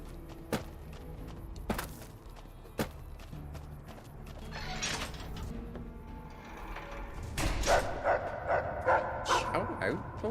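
A dog barks and yips in Fallout: New Vegas, with a few sharp calls standing out among the game's ambient sounds and footsteps, and someone talking over them.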